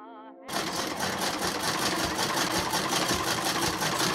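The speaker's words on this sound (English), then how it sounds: "I got sewing and stitched together the darts on the front and on the sides" A sewing machine runs in a steady, loud whirring stitch while dress bodice darts are sewn, starting abruptly after a brief tonal sound and continuing without pause.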